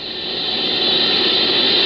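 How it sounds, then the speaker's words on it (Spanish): Steady broadband hiss of radio interference picked up by the Horn Antenna, a constant static wash that holds even and loud throughout before cutting off abruptly at the end. "Pero la Horn Antenna que utilizan recibe constantes interferencias."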